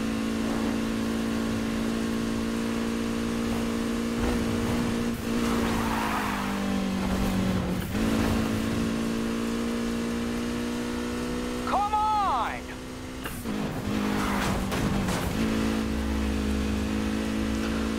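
Racing cars in Need for Speed Heat during a police chase: a loud, sustained engine drone with shifting pitch and brief tire squeals, continuous throughout and close.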